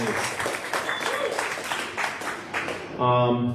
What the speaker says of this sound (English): give a round of applause to your judges